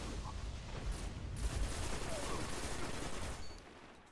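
Rapid auto rifle fire from Haakon's Hatchet in a Destiny 2 match crackles in quick, steady bursts, fairly faint and distant, over a busy game soundscape.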